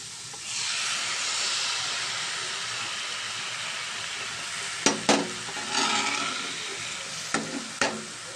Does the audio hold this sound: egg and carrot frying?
yes